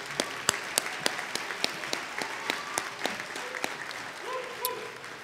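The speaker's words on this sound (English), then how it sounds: "Can we give him one more round of applause, though," An audience at a charity luncheon applauds, a dense patter of many hands clapping with sharper individual claps standing out, sustained at moderate volume through the whole stretch, with a faint voice briefly audible near the end.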